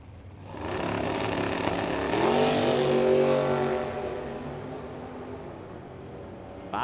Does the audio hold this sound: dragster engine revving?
yes